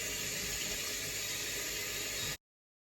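Tap water runs steadily over a grater being washed in a sink, a continuous close splashing hiss that cuts off abruptly.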